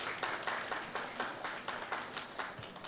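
Audience at a medical education session on COVID-19 vaccines clapping, an even spread of hands beating a loose steady rhythm at moderate distance, fairly soft and without talk.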